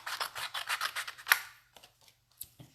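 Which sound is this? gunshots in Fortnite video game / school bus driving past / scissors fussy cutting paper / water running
scissors fussy cutting paper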